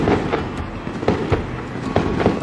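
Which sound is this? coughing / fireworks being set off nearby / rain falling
fireworks being set off nearby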